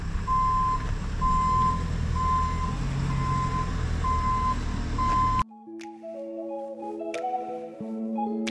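A forklift's reversing alarm beeps in a steady, evenly spaced series over a low engine rumble while loading pallets onto a truck trailer on a street, cut off abruptly halfway by unrelated music.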